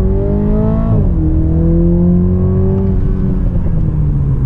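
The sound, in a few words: Toyota GR Supra 2.0 accelerating at full throttle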